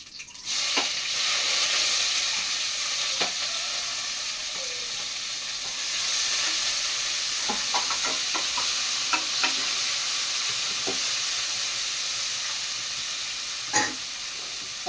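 Onions sizzle steadily in hot oil in a pan for tomato rice, a loud continuous crackle, with a few utensil taps and stirring scrapes along the way.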